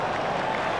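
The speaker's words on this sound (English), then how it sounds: "The crowd were brought to their feet by that shot" A cricket stadium crowd at a one-day international in Brisbane roars after a front-foot shot, a brief, dense wash of distant cheering and clapping with no single voice standing out.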